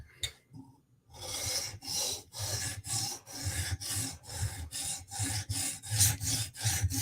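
A knife blade is stroked against a sharpening stone, catching the burr: a rhythmic series of about a dozen close, raspy scraping passes, each separated by a brief pause, with no talking.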